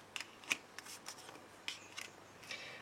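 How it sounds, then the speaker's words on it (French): Tarot cards handled and laid down one by one, with a few crisp snaps and soft papery flicks spaced irregularly, close and quiet with no talk. "je vais quand même remettre d'autres cartes"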